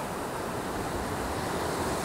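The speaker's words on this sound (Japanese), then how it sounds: "波が来る波が来るおおすごい" Sea of Japan surf washing onto the shore, a steady loud broadband roar of breaking waves with wind buffeting the microphone, close and continuous with no voices.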